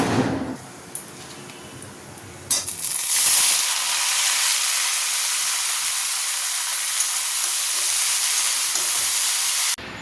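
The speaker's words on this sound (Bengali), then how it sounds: "এখানে কড়াই সর্ষে আর শুকনো লঙ্কা ফোড়ন দিয়েছি" Loud, steady sizzling hiss of mustard seeds and dried chilies hitting hot oil in a wok, with a few clattering bumps at the start and a sharp burst partway through, continuing unbroken.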